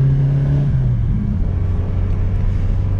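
A Volkswagen Passat GTS Pointer's AP 1.8 engine revs close by, a loud, deep, throaty drone that dips slightly in pitch and then holds a steady rumbling tone.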